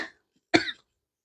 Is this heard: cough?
yes